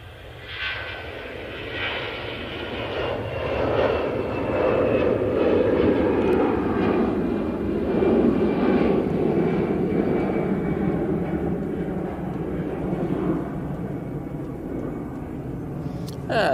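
An easyJet Airbus A320-200 takes off at Manchester Airport, its jet engines building into a loud, sustained roar that holds steady and then eases slightly.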